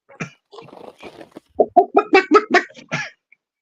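Chickens cluck in a burst of close, choppy notes, a few scattered at first and then a faster run of loud clucks, with no talk over them.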